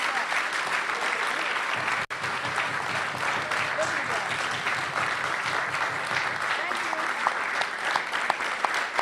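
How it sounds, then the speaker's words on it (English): A luncheon audience at the National Press Club bursts into steady, dense applause for the featured speaker, a full room clapping continuously for several seconds at close range, with one brief dip. "I'd like to ask everybody for a wonderful round of applause for our speaker today."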